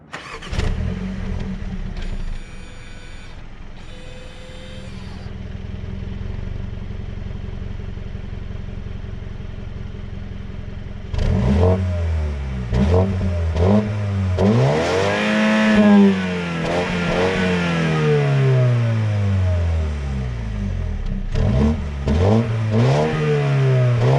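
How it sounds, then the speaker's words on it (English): A BMW 220i Gran Coupe engine starts. After a pause the exhaust revs hard several times, rising and falling in pitch, loud and close, with no speech. "let's head on to the exhaust note."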